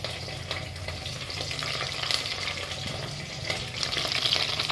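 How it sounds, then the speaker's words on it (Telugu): Curry leaves fry in hot oil for a mixed vegetable curry, giving a continuous close sizzle with faint crackles and occasional stirring scrapes, without speech. "సో ముందుగా ఫ్రెండ్స్, కొంచెం కరివేపాకు ఆయిల్లో వేసేసుకోవాలి"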